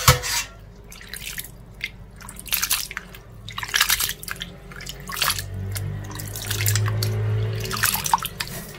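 Blanched green beans tipped into cold water to stop the cooking, giving irregular drips and splashes with a low, steady running-water wash underneath, close by and moderately loud, no voices.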